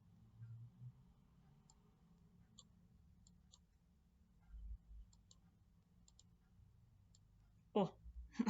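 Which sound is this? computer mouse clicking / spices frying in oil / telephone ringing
computer mouse clicking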